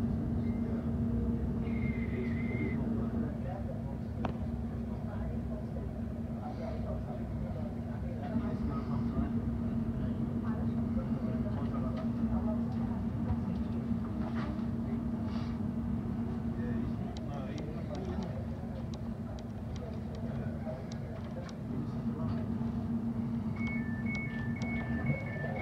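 A London Overground train runs from Euston toward Watford Junction, heard as a steady low rumble and droning hum inside the carriage, with a few brief electronic tones near the start and end.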